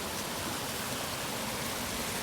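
Floodwater rushes steadily during Hurricane Ida's intense rainfall in Gulf Hills, Ocean Springs: a constant, close, broadband roar of flowing water with no breaks or voices.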